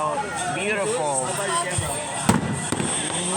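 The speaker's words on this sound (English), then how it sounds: "Are the fireworks bigger than a TV size?" Fireworks boom over a beach show, a couple of sharp bangs landing under excited, steady chatter from onlookers close by.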